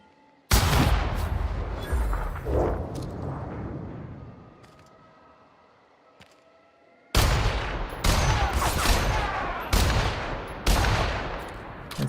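Gunfire in The Outer Worlds on Supernova difficulty: loud bursts of rapid shots, a lull with faint ambience, then repeated heavy volleys crowding the latter half, no speech.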